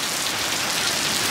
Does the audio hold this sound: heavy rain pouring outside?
yes